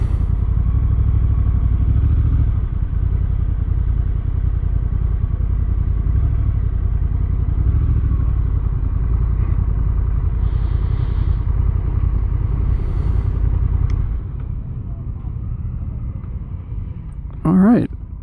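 Honda NT1100 DCT motorcycle slowing to a stop, a steady loud engine rumble under wind that drops to a lower idle near the end, with someone talking over it.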